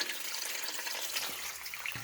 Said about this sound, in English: I just got this valve just barely on, just trying to get some water over the cement here without washing it out.